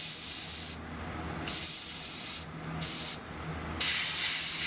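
An airbrush sprays paint onto a beach towel in a series of close hissing bursts, each about a second long, separated by short pauses, over a low background rumble.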